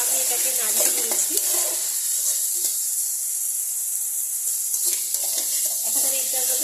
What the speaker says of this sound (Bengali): আমি এটাকে কষাবো, যাতে চালের সঙ্গে মশলাটা ভালো করে মিশে যায়।